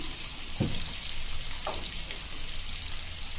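Chopped onion hits hot oil with cumin seeds already frying, giving a loud, steady sizzle close up, with a few brief crackles and spatters over the continuous hiss.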